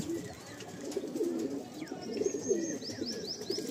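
Tournament-playing Madrasi pigeons coo repeatedly in soft, rolling, low phrases, with faint chirps and tweets from other birds in the background of a pigeon sale setting.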